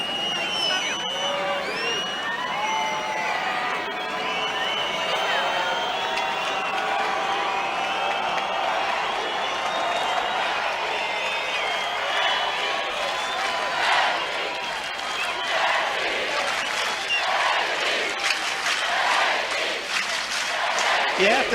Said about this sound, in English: Hingis complaining that the crowd cheering and hooting throughout most of the match